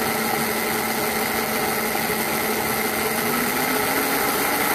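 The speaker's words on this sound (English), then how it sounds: "the dyno starts to run a lot faster, as you can hear in the demonstration" Eddy current dynamometer built for FSAE running under load, a steady, close mechanical whine and hum that holds without pause or voices.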